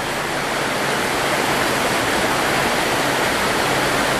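The Treja waterfalls at Monte Gelato pour a river over mossy boulders under thick tree cover, a steady loud broadband roar of rushing water close by with no voices.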